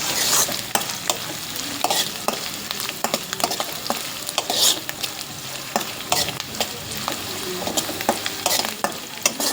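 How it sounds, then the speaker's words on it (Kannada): Food frying and being stirred in a pan over a high gas flame in a home kitchen, with a steady sizzle punctuated by frequent scraping and clacking stirs, close and fairly loud, no voices. "ಸೊ ಸ್ವಲ್ಪ ಗ್ಯಾಸ್ ಹೈ ಇಟ್ಟು ಹೆಚ್ಚಿಗಿಟ್ಟು ಹಿಂಗೆ ಫ್ರೈ ಮಾಡ್ಕೋರಿ ಹಾಕೋಬೇಕು"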